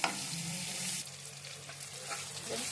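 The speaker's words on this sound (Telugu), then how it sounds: "చూడండి, వంకాయలు ఇలా చక్కగా వేగిపోయాయి" Eggplant pieces fry in a pan with curry leaves, salt and turmeric, a steady close sizzle with faint stirring scrapes throughout.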